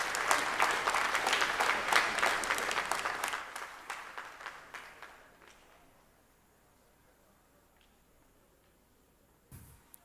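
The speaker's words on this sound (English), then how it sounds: "I invite for him a round of applause for the outstanding work." Church session congregation applauds a speaker's work, a burst of clapping that is strong at first, then thins out and fades to near quiet, followed by a brief thump.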